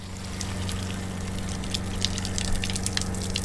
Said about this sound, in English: The water starts coming out.